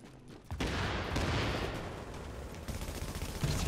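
Dense, continuous gunfire rattles through The Division, a loud sustained barrage of overlapping shots that starts abruptly and carries on with little pause.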